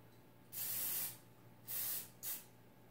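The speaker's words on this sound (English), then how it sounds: "we'll just give them a quick spray just to make sure that" Cooking spray misted onto puff pastry for cream horns: three short hissing bursts, the first about half a second long and the later two briefer, close and clear against a quiet room.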